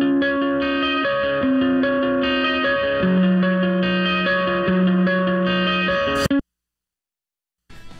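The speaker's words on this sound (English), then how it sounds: "They have kind of a famous intro guitar tone, and it sounds like this." The intro of a song plays on a clean electric guitar with chorus and delay effects. The rhythmic strummed chords ring bright and steady for about six seconds, then cut to silence.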